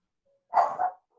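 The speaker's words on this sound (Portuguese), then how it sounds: "Você escutar um latido aí, é a minha cachorra que não sabe deixar os vizinhos em paz" A single dog bark, a short double burst, fairly close and clear against an otherwise quiet background.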